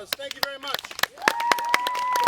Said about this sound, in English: Give her one round of applause.